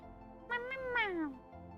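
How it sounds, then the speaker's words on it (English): A cat's meow, two or three drawn-out rising and falling cries lasting about a second, clear and fairly close over a low steady background hum. "Meow."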